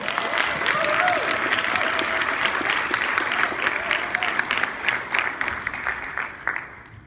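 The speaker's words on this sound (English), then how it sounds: "Let's give them a round of applause." An audience at a sales keynote event breaks into steady, sustained applause, many hands clapping at once and filling the room before slowly tapering off toward the end.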